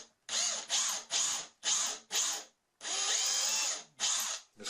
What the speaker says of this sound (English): So with the same drill bit, and my drill in reverse this time,